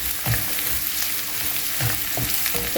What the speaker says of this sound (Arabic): ونبقاو نحركو الخليط ديالنا حتى تهبط عندنا البصله والزبادي